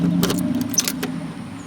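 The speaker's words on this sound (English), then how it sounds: "getting the keys, and there's a lot of them." A large bunch of keys for a 24-year-old truck camper jangles in a few quick metallic bursts over a steady low hum, close and fairly loud, with no talking.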